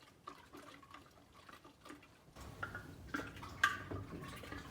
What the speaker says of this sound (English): Now I'm just adding straight cold water to it.